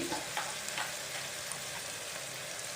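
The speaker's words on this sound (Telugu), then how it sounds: "వేసుకుని కొద్దిగా ఫ్రై చేసుకోవాలి" Curry leaves and coriander sizzle steadily in a hot pan as a masala curry is cooked, a close, continuous frying hiss with a few soft stirring taps near the start, no voices.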